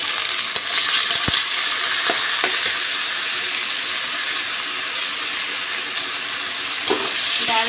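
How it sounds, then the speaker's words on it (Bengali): Fried lentils and rice stirred together in a hot pan for khichuri, a steady close sizzle with sporadic scraping knocks of a spoon against the pan, no voices. "ভেজে রাখা ডালগুলো দিয়ে দিলাম। এখন একটু নাড়াচাড়া করে ধুয়ে রাখছি এই যে চালটা দিয়ে দেব।"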